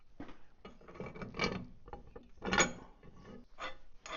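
A wrench ratchets in short bursts while cinching down a failed loader cylinder, the clicks close and fairly faint, arriving in uneven clusters with brief pauses between them.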